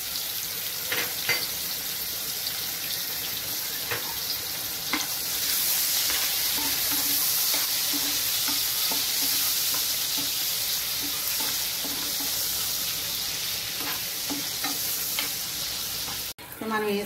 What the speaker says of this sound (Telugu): ఇప్పుడు రొయ్యలు వేగిన తర్వాత కొద్దిగా ఎండుచేప కూడా వేయించుకోవాలండి.